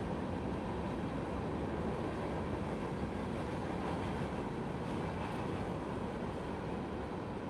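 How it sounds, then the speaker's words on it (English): A steady, loud rumbling roar of a train passing behind a hotel fills the scene continuously, dense and unbroken with no talking. "And boy, is this train loud."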